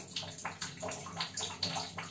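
Water from a shower patters and splashes in soft, uneven bursts close by, fairly quiet, with no talk over it.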